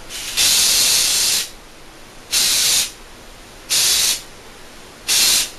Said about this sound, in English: I'm going to take it like this, and I'm just going to spray it as the hair falls down